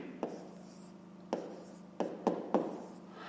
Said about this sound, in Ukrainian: Ну і записуємо дріб.